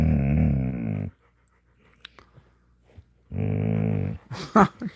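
A puppy pants and growls indoors, giving two loud raspy, harmonic bursts separated by a quiet gap with soft clicks, then brief sharper noises at the end.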